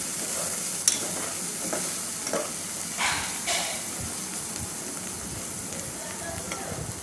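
Molondi fish curry with salt being stirred in a hot pan, a continuous close sizzle and hiss punctuated by several scraping spoon strokes.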